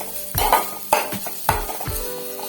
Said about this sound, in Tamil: அதனால நம்ம நெய்யில் தேங்காயை வணக்கணும்